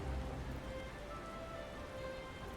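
Steady rain falling in the Final Fantasy XIV world, a soft even hiss of droplets heard faintly and continuously with no voices.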